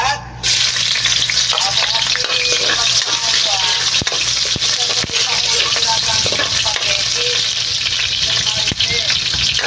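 Onions sizzle and fry steadily in a hot pan while pork adobo with bell pepper is being cooked, a loud, continuous crackle with light stirring scrapes throughout and no speech.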